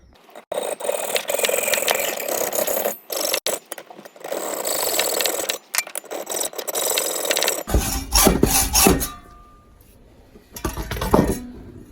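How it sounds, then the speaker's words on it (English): A hacksaw blade cuts through the steel of a classic Mini door in rapid rasping back-and-forth strokes, loud and close, with short pauses and metallic clinks between bursts. "I'm just going to use the hacksaw blade to cut it"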